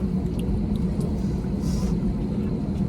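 Inside a jet plane cabin waiting in line to take off, a steady low rumble fills the space, with faint brief chatter and small clicks on top.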